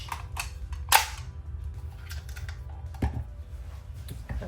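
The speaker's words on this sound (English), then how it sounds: "I'm going to try this star garland knockout punch." A star garland knockout punch snaps through bright white paper in one sharp, loud crack near the start, followed by softer clicks and paper handling close by.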